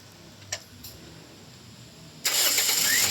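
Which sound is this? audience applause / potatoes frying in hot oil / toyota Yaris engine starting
toyota Yaris engine starting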